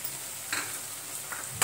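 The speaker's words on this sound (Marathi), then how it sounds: "सर्व मसाले आपण 2 मिनिट परतून घेऊ" Turmeric, coriander and red chili powder being sautéed with softened tomato in a pan, a steady soft sizzle with a few scraping stirs of the spatula, close and alone.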